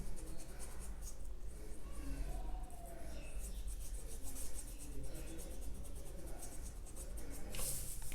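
A blender brush sweeps paint across paper while painting a realistic hand, a soft continuous scratchy rubbing that is faint and close with small rhythmic strokes.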